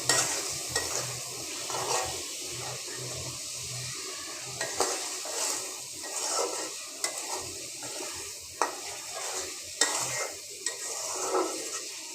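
Shrimp sizzles in fried spice paste in a pan, a continuous close frying hiss punctuated by repeated utensil scrapes and taps as it is stirred, with no talking.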